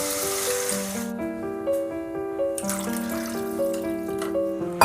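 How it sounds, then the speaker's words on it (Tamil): Water is poured from a cup into a pot for cooking kodo millet noodles, making short splashy bursts near the start and midway, partly masked by louder background music. "இப்போ வந்து நம்ம தண்ணி ஆட் பண்ண போறோம்"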